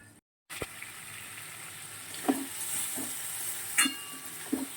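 Soybean chunks fry in a pan, giving a continuous close sizzle broken by a few scraping stirs, after a short silent gap at the start.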